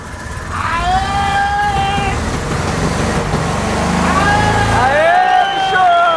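Freshly refuelled engine catching and revving, with pitch sweeping upward in two rising surges separated by a dip, close and loud over a rough mechanical rumble, with excited shouting nearby.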